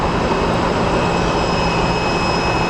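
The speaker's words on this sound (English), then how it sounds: "I think this is a Frontier A320 Neo coming in" A Frontier Airbus A320neo airliner comes in to land at an airport, a loud, unbroken jet roar with a high whine, with no talking.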